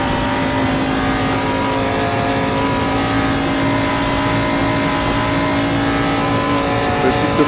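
A Duqueine race car in a VR racing game accelerates hard down a long straight in sixth gear, its engine a loud, steady high-pitched drone that holds without a break throughout.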